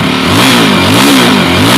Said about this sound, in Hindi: अब इसको रैव करते हैं।